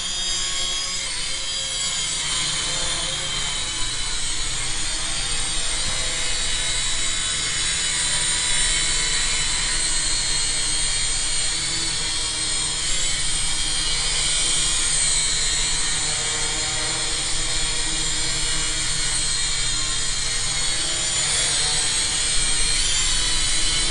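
Syma X5SW quadcopter drone hovering nearby, its small motors giving a steady high buzzing whine that wavers slightly as the gyros correct its position, continuous and loud throughout.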